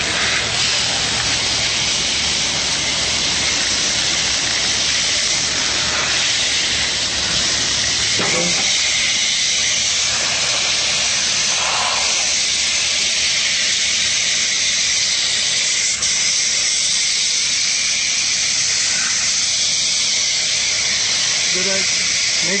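Water spray rinsing coil cleaner off an air conditioner coil, a steady loud hiss that continues throughout with small shifts in tone as the spray moves, no voices.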